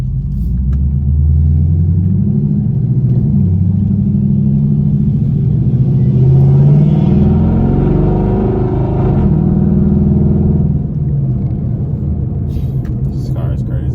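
A straight-piped Chevrolet Camaro 2SS rumbles with a deep, loud exhaust drone that swells in the middle and then settles, heard from inside the car with speech present.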